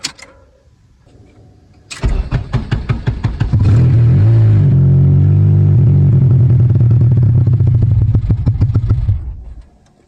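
A Honda K24Z engine with a newly replaced starter cranks in quick rhythmic chugs for a couple of seconds, then catches and runs loudly and steadily before shutting off near the end.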